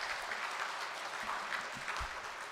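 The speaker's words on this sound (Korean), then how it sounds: "우리 뜨거운 박수 하겠습니다." Steady, fairly faint applause from a church congregation at a Sunday Methodist service, welcoming new members with continuous clapping throughout.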